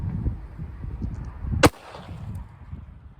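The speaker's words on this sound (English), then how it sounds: "we're going to shoot the S&B 9mm Makarov ammunition out of my CZ82" A single sharp shot of S&B 9mm Makarov ammunition from a CZ82 pistol cracks out mid-clip, loud and close, over low rumbling outdoor background.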